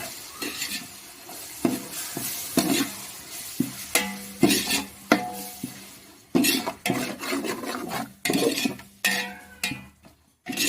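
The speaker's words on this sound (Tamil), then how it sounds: "இது நல்லா பச்சை வாசனை போகிற வரையும் நல்லா வதக்கணும்" Ginger-garlic paste sautéing in a pan for chicken biryani: a steady soft sizzle under repeated scraping stir strokes and occasional clinks of a spoon against the pot, close and moderately loud, with no talking.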